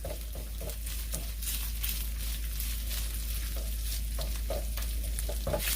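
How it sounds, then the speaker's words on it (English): Two pieces of bacon sauté in a pan as the fat renders for a stuffing, giving a steady, close sizzle and frying crackle with occasional stirring scrapes throughout, no talking. "We start the stuffing by sauteing 2 pieces of bacon."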